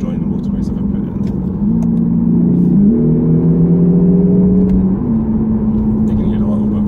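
Lexus RC300h F Sport hybrid in sport mode, steady engine drone with artificial engine sound through the cabin speakers, a rising then settling tone as the car accelerates onto a motorway, while a person talks over it.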